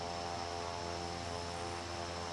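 Klemm KL25 propeller engine droning steadily in Microsoft Flight Simulator 2024, a loud, continuous airplane hum with no break, heard alone.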